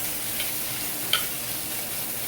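Spicy vegetables cooking down in a pan: a steady, close hiss of frying with a couple of faint clicks and one brief utensil tap, with no talk.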